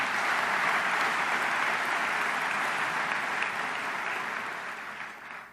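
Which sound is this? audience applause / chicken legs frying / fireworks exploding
audience applause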